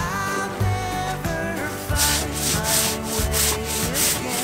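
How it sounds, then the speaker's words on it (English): Rhythmic back-and-forth scrubbing of a canvas wall tent panel to spot-clean mold stains, with firm, close brush strokes repeating roughly every half second and no talking. "It takes a lot of scrubbing and a lot of elbow grease and all I'm really doing is spot cleaning."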